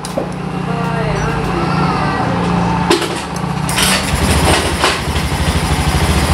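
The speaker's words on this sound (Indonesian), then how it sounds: "Teman-teman bisa dengar sendiri motornya sudah hidup ya." A Honda Vario scooter engine fires up after an ECU reset and settles into a steady, close idle, a low throbbing putter that grows busier partway through.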